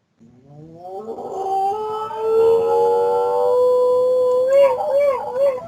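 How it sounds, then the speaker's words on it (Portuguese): A female dog howls in long, wavering, rising cries as an ambulance siren passes outside during an online class. The howl swells loudly and holds for several seconds before breaking into shorter warbling yelps near the end. "Não, é minha cachorra, passa a ambulância"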